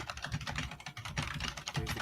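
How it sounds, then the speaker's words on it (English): Computer keyboard clattering under rapid, continuous typing, close and fairly loud, with dense irregular keystrokes and no voices. "There's the keyboard again."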